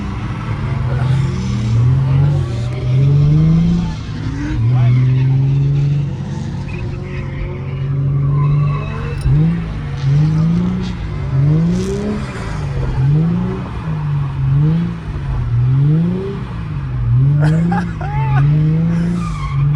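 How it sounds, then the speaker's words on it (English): A drifting car revs hard with repeated rising and falling engine pitch and screeching tires, heard from a distance at a drift event, while people talk over it. "I just drove it down last weekend to watch Nick drift"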